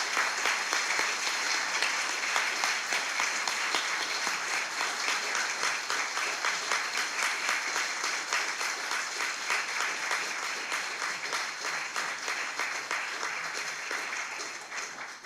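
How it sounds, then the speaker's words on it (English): A church audience at a Good Friday service gives sustained, dense applause for the evening's performers, an even wash of many hands clapping that holds steady for a long stretch before tapering at the end. "why don't we right now offer our applause and thanks for the performers"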